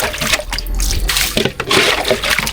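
Water being bailed out, repeated splashing and pouring of liquid in uneven scoops, close and fairly loud.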